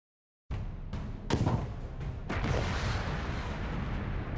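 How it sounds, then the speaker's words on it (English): Rapid booming cannon shots in Alice: Madness Returns, several heavy thuds in quick succession followed by a sustained rumbling barrage. "Press left mouse button to fire cannons and right mouse to fire depth charge."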